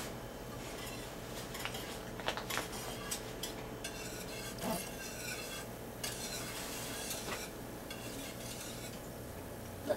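Yeast being stirred into a bread dough mixture in a bowl, soft repeated scraping and clinking of a utensil against the bowl, quiet and close, with no talking.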